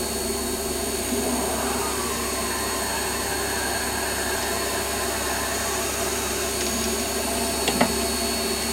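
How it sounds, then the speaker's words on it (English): A steady machine whine and hum from a lathe centre drilling metal continuously, with faint metallic scraping and a brief click near the end. "I'm in with a centre drill."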